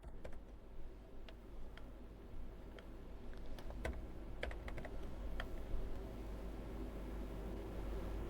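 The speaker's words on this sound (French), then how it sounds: "vous devez appuyer sur la combinaison de touches CTRL-X, puis pour le coller, allons dans un autre répertoire et appuyons sur CTRL-V" Keys clack sparsely on a Lenovo 14e Chromebook keyboard as shortcut combinations are pressed, a handful of separate quiet taps with short pauses between them over a faint steady background hiss.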